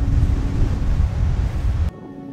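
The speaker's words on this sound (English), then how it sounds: "It is a little bit windy today though" Wind buffets and rumbles heavily against the microphone outdoors in Cornwall for about two seconds, then cuts out abruptly, leaving a faint hum.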